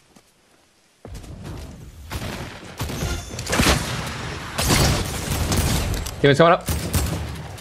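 Rapid bursts of AK rifle fire in a Fortnite match, close and loud, with several clusters of sharp shots over a few seconds, heard under excited voices talking.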